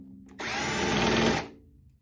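Power drill unscrewing the tension rods on a 10-inch ddrum Dios Bubinga rack tom, one burst of about a second of loud high whirring, close up, starting and stopping abruptly.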